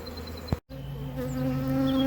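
Honeybee swarm buzzing steadily near a swarm trap box, a dense droning hum with a few individual bees passing close, loud and continuous throughout apart from a brief cut.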